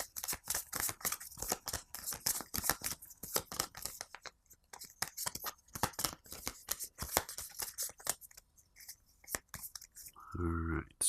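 Aeon's End game cards are shuffled close up: a quiet run of rapid, crisp flicks and papery slaps comes in uneven bursts, ending in a brief denser riffle.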